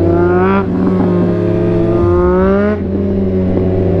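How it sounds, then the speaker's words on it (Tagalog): A three-cylinder motorcycle fitted with a VMAX Racing exhaust revs loudly and close by, its pitch climbing, dropping and rising again in two strong pulls on an evening street in BGC. "VMAX Racing din kasi yung tambucho niya, kaya lakas eh."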